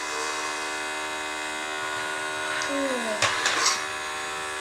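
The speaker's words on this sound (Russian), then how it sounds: "Начинаем, Арина, пылесосить." A toy vacuum cleaner runs with a steady electric whine and hum throughout, rising briefly near the end with a few rattling bursts.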